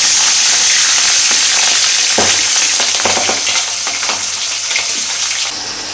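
Catla fish gills fry in a hot wok with a loud, close, continuous sizzle, broken by a few scraping stirs, the hiss easing slightly toward the end.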